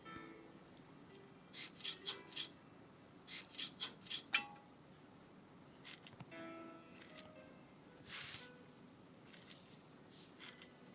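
Rhythmic rasping strokes of a file scraping in a game, coming in two quick bursts of about four strokes each, followed by fainter scrapes and a brief hiss.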